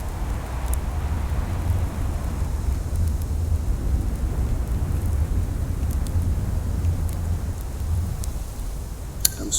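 A storm in a survival video game makes steady, loud rain noise with a deep rumble of thunder underneath, continuous throughout, ending in a faint click.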